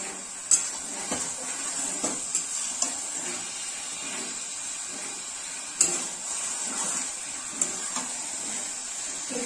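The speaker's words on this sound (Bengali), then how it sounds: "এই চিকেনটা দিয়ে দেবো এর মধ্যে একসাথে আমি এটা কষাবো" Large chicken pieces stir-fried in a pan, a constant broad sizzle with occasional clinks and scrapes of the spatula, steady and fairly close.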